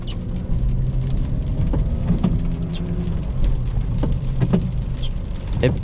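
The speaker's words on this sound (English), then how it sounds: "This time we are in the Beamer and it is pouring outside." Heavy rain pours on the outside of a 2008 BMW 328xi E90, heard from inside the cabin as a steady loud wash over low engine rumble, with occasional sharp drops or thuds.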